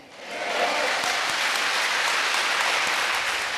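A seated audience at a religious gathering breaks into applause, a dense, steady burst of clapping that swells within half a second and holds loud and even to the end, with no voices over it.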